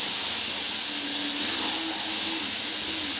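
Chicken, fried earlier in oil, goes into hot masala with Kashmiri chilli powder in a small kadai, sizzling as a steady, close broadband hiss that holds for the whole stretch with no voice over it.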